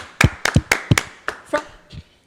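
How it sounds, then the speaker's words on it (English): A handful of sharp, close hand claps sound in an irregular sequence, about eight in two seconds, sparse rather than a full crowd, tapering off at the end. "he does deserve a huge round of applause"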